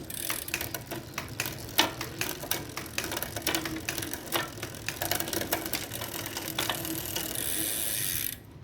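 A SRAM Force bicycle shifter being pressed through its gears, giving a run of sharp mechanical ratchet clicks in quick irregular bursts, close and clear, with no talking.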